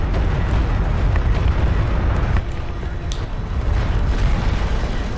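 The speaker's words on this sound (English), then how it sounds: "Looks like those were just cruise missiles." Cruise missile barrage explosions in a Homeworld-style space strategy game land as a dense, loud, low rumbling roar, sustained deep booms with a brief dip midway and a sharp crack near the end, with no voices over them.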